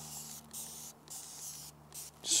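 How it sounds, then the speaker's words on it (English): Several short hissing bursts from a spray bottle of road tar and black streak remover, close up, spaced about half a second apart with a low steady hum underneath. "Just spray it on."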